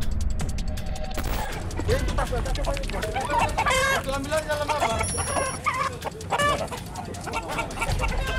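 Fighting roosters seized at a cockfighting gambling raid cluck and squawk repeatedly at close range, amid crowd noise and people talking during the commotion.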